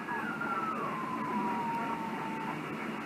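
Radio signal picked up on the 11 meter band, a steady wavering tone drifting slowly downward over a constant hiss of static, faint and alone with no talk.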